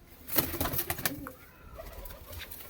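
Ludhiana-breed Punjabi pigeons coo in soft repeated bursts, close but fairly quiet, with a few sharper calls early on before fading into low background murmur.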